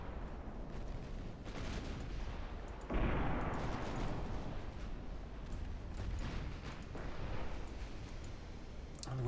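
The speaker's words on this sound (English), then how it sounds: "And we're under torpedo attack." Naval battle in Ultimate Admiral Dreadnoughts with a warship under torpedo attack: a dense, continuous roar of gunfire and explosions with a heavy surge partway through, loud throughout.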